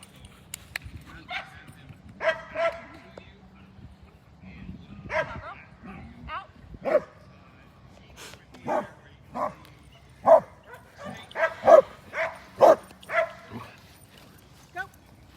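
A service dog playing fetch with a ball gives a series of sharp barks and yips at an irregular rhythm, loud and close, with a person talking and soft whimpers between the barks.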